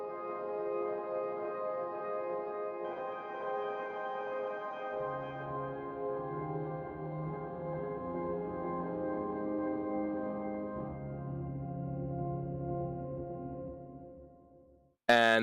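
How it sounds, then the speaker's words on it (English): Sustained granular synth pad built from a frozen single piano note sample, playing slowly shifting chords with a steady, smooth drone, close and moderately loud, ending in a brief abrupt change. "And it's basically sounds like this piano note, but frozen in time."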